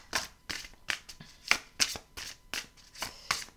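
A deck of Belline oracle cards is shuffled by hand for a reading: a quiet run of about nine soft, papery riffling bursts in an irregular rhythm, close up, with no talking.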